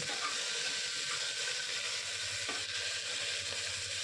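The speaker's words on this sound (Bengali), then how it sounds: "এবার দিয়ে দিচ্ছি বিন এবার এই উপকরণগুলোকে আমি একটু মিনিট দুয়েক ধরে ভেজে নেব" Beans, cauliflower and carrot frying in a pan for khichuri, a steady close sizzle with soft stirring scrapes running throughout, no talk.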